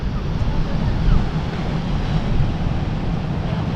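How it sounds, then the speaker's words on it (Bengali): Big sea waves at Cox's Bazar beach at night, a steady roar of surf and wind filling the scene with continuous low rumble and no clear breaks, close and moderately loud. "কত বিশাল বড় বড় ঢেউ"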